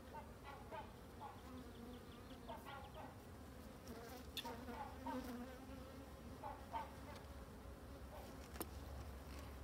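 Honeybees of a small colony started from a swarm buzz steadily in the hive at close range, a soft continuous hum with occasional sharper individual wingbeats.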